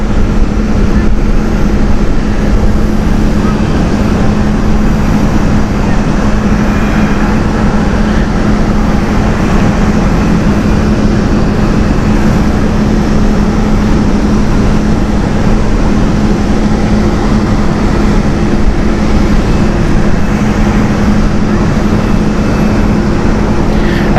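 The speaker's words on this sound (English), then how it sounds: "Triple 7 being taxied at the moment." A KLM Boeing 777 taxiing at Amsterdam Schiphol Airport gives a loud, steady jet-engine roar with a constant low drone, unchanging and continuous throughout with no talk.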